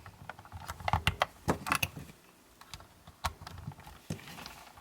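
Small plastic toy guns from a Maketoys MTRM-01 Cupola transforming figure click and clack as they are slotted back in, a series of sharp close taps and rattles with brief pauses between.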